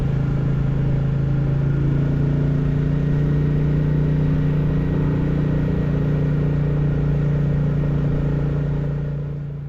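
A Royal Enfield Classic 350 single-cylinder engine drones steadily under load on back roads, a loud, close, continuous thrum with wind rush that eases slightly near the end.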